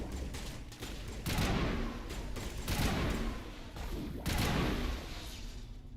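Sustained gunfire in the video game Mass Effect, rapid overlapping shots and bursts in dense volleys that pulse loudly throughout, with no voices over them.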